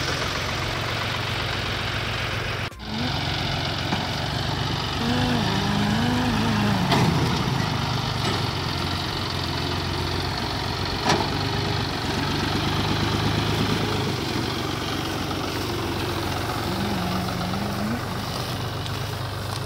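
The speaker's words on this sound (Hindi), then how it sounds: "अब निकाल रहे हैं ट्रैक्टर को" A John Deere 5036 Super Turbo tractor idling steadily while being moved in a village, a continuous low diesel rumble close by with slight rises in engine note and a faint voice in the background.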